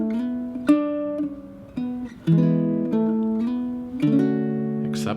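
Baritone ukulele picks out a chord melody, single plucked notes and strummed chords ringing clearly and alone, each decaying before the next phrase.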